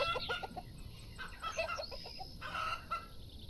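Chickens in the farming video game Farm Manager 2018 give several short, faint clucks in quick irregular bursts, with no voices over them.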